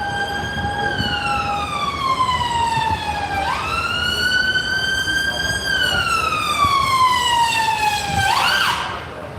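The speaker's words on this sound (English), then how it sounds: "I'll got another siren coming now." Wailing ambulance siren sweeping up and down in pitch, steady and fairly close over a constant hum of street traffic, with a quick yelp burst near the end.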